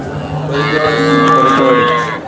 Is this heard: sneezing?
no